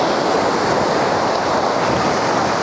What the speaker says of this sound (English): The tide is really, really coming in.